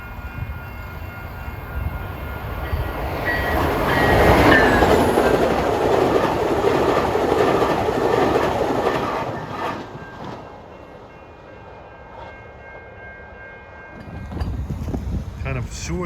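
A CN train rolls past on the Kingston subdivision, a line shared with Via passenger trains, in Ontario, a broad rumbling roar with rail clatter swelling and fading over several seconds, then quieter ambient rumble.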